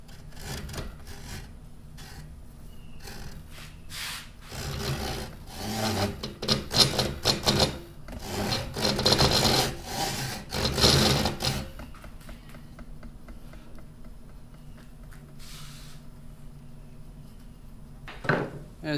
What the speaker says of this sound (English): Gotta chunk out right here and right here to make the pectoral fins, and then shave these down to make that back fin.